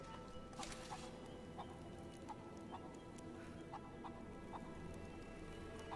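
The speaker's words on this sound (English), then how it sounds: "There's a chicken there." A chicken clucking at the Acropolis in Rise of the Tomb Raider, faint and distant, with a series of short repeated clucks and pecks over a low ambient hum.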